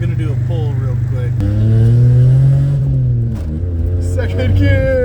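A car engine revs steadily through an acceleration pull, its tone climbing then falling as gears change, loud and close throughout, from a car with a failing clutch and a lost second gear.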